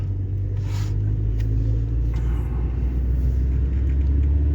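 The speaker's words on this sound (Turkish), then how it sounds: "Bak şu an gidiyor, vites attı." A Honda Civic 1.6 drives along and shifts gears, heard as a steady low engine rumble and road drone from inside the car, even and fairly loud throughout.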